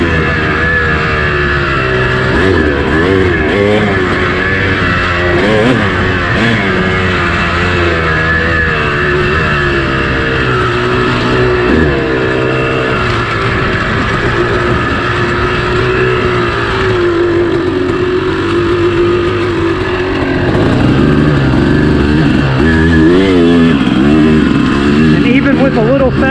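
Dirt bike engine climbing a dry singletrack trail in low gears, revving and lugging with throttle feathering, loud and continuous throughout with a rider talking over it.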